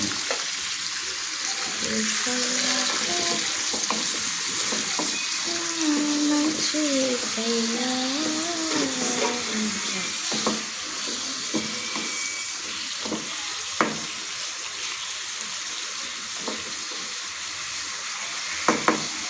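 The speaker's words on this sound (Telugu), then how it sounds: "వంకాయలు వేసా కొద్దిగా సాల్ట్ వేద్దాం కాస్త కరివేపాకు వేస్తా ఇప్పుడు మిక్స్ చేద్దాం" Eggplant pieces fry in oil with salt and curry leaves in a home kitchen pan, giving a steady broadband sizzle with scraping stirs and clinks throughout, while someone talks over it.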